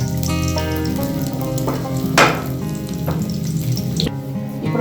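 Garlic crackles and sizzles in a small amount of hot tempering oil, a dense close frying hiss with sharper pops and spits scattered throughout.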